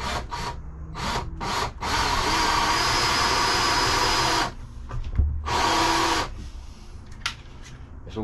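A power drill drives a screw into pre-drilled pallet wood for a homemade bar, whirring loudly in close bursts: a few short pulses, then a long steady run and a final shorter burst, with a low thump between.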